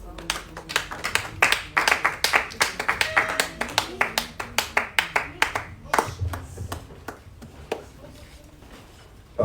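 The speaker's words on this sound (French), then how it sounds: "nous acclamons le Seigneur" A church congregation claps in rhythm, a steady run of sharp, loud hand claps at a quick even beat that thins and fades toward the end, with faint voices underneath.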